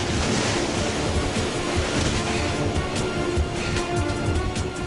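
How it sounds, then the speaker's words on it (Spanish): A tidal surge of seawater rushes into a bay and crashes against the shore, producing a loud, continuous roar of churning surf with wind buffeting the microphone and no voices. "La avalancha se estrella contra las orillas y a su paso arranca tierra"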